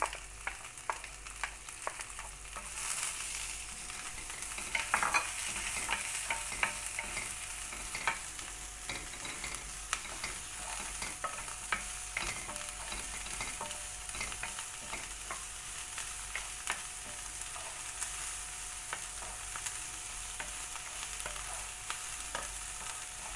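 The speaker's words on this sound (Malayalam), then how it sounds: "ചെറുതായി അരിഞ്ഞിരിക്കുന്ന ഉള്ളി നമുക്ക് ചേർത്ത് കൊടുക്കാം" Finely chopped onions are sautéed in a pan for a prawn dish, a steady low sizzle under repeated soft stirring scrapes that run evenly for the whole stretch, close and with no talk.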